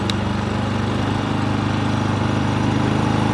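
A new Predator 3500 generator from Harbor Freight runs steadily at close range, with a constant low, even engine drone and no voices.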